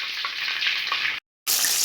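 Chicken lollipops deep-fry in oil with a dense, steady sizzle that cuts out briefly and then returns just as loud.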